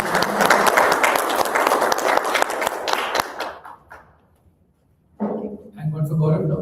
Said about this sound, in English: Round of applause, please, for Sri Lanka.